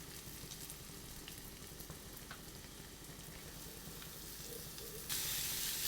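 Chopped spinach greens hitting sautéed onions in a hot pan, a soft steady sizzle with faint stirring ticks, swelling into a louder hiss toward the end.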